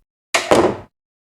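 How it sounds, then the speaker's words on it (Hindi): A single door shuts on its own as a story sound effect, a short double thud with a sharp first impact and a heavier second one, followed by silence. "दरवाजा अपने आप बंद हो गया"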